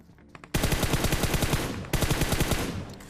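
Loud rapid automatic gunfire in PUBG in two sustained bursts, separated by a brief break, close and rhythmic.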